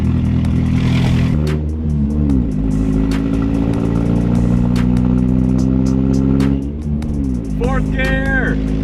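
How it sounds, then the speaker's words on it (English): A Honda Civic with a swapped-in B-series engine accelerates on the road, its revs climbing loud and close and dropping at several gear changes, with no talking heard. "I'm driving my engine swap car right now."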